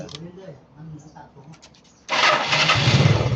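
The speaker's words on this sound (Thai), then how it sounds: "สตาร์ทเครื่องครับ" A Yamaha Mio scooter with an LED headlight and erratic electrical system cranks briefly, then fires and settles into a loud, steady idle, with quiet talk beforehand.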